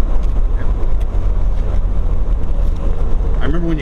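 A 1970 Jaguar XKE's engine runs steadily while driving, a deep continuous low rumble with wind buffeting, ending with a brief rising tone near the end; voices are present.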